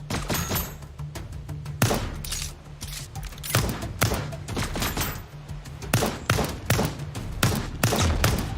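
Gunfire aimed at an enemy in the video game Lost Skies: repeated sharp, loud shots in irregular bursts, some single and some in quick pairs, with thuds and mechanical clunks in between.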